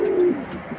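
A young racing pigeon of a wedding-line strain, sick with pox, gives one low, close, soft coo that lasts under a second.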